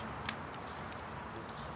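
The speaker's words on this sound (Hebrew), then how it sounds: "קריאות הציפורים, רחש הנברנים, עלים נעים ברוח." Birds call outdoors in nature, a few short, faint chirps scattered over a soft, steady ambient background.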